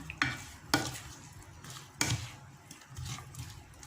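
Grilled tofu and shallots are tossed together for a vegetarian spicy salad, heard close as a few sharp clacks and scraping stirs spaced about a second apart, with soft rustling mixing in between.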